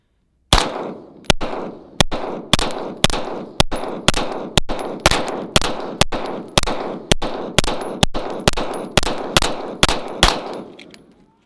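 Twenty sharp pistol shots from a Springfield Armory Prodigy 5-inch fired at an indoor or outdoor range at 10 yards, evenly spaced in a rapid steady rhythm, each crack loud and close with a short ringing decay, no talking.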